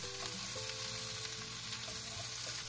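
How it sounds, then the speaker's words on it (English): Bok choy stir-fries in a hot pan with beef, giving a steady dense sizzle with faint scraping under it, close and continuous with no talk. "Stir fry the bok choy for about 1 minute."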